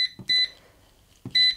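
Electronic beeps from an air fryer's timer as it is set, cooking at 200 degrees C: two bright, high-pitched beep bursts separated by a pause, each preceded by a soft button click, close and fairly loud in a quiet kitchen.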